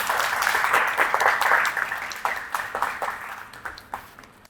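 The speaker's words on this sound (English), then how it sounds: "Give him a round of applause." A crowd applauds with dense, steady clapping that gradually thins out and fades toward the end.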